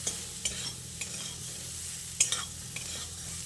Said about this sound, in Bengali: এবার সয়াবিনটাকে লো টু মিডিয়াম ফ্লেমে ভালো করে ভেজে নিতে হবে।